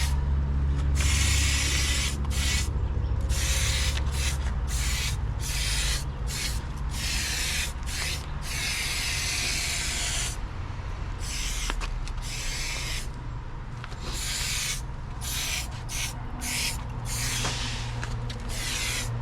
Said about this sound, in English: I'm going to go ahead and spray the wood here.